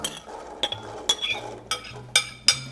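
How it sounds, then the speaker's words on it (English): A 12-ounce package of cranberries tumbles into a pot of spiced cranberry Zinfandel sauce with mulled wine, giving about six sharp clinks and plops spaced irregularly over a quiet kitchen background, with no talking. "But now we're gonna add 1 package of cranberries."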